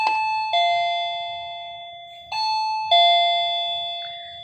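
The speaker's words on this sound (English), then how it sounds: "I have a doorbell plugged into the front of the room, so that is my attention grabber" An electronic doorbell used to grab attention in an 8th grade classroom chimes repeatedly, several clear ringing ding-dong tones in quick succession, loud and close with nothing else heard.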